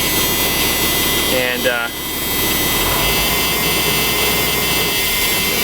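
A converted bus's engine running right after starting, a loud steady broadband roar and hum that continues throughout with a brief dip near the start, while someone talks over it.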